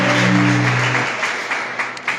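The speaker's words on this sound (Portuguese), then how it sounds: "Podemos assentar e dar uma grande e verdadeira salva de palmas." A church congregation claps together in a dense, steady burst of applause, with a sustained organ or keyboard tone underneath for the first second before the clapping carries on alone and tapers slightly.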